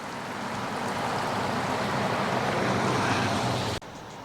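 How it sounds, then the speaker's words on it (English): Mill Creek flows through Turner during an outdoor town celebration, a steady broadband rush of moving water held at even loudness for several seconds before cutting off abruptly near the end. "And there's Mill Creek as it flows through Turner."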